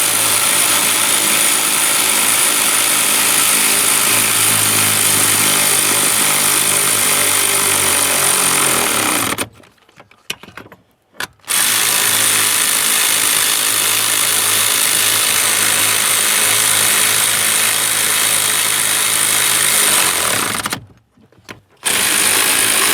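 A power tool snugs the brake booster bolts on a 2004-2008 Ford F-150, running loud and steady in two long bursts, each broken by a short pause.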